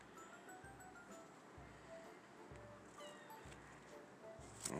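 A cat meows faintly and repeatedly at a feeding spot outdoors, the calls distant and quiet beneath a soft steady background hum, with no talking.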